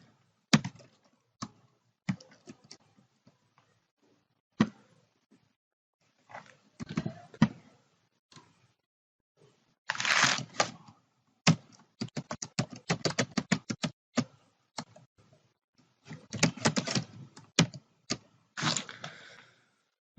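Keys clatter on a computer keyboard as text is typed into an MS Word table, coming in quiet scattered taps and then denser runs of quick keystrokes, close and soft with silent gaps.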